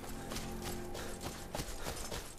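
Horse hooves galloping in Skyrim Special Edition on PS4 Pro, quiet rapid clip-clop beats repeating under a low continuous game ambience.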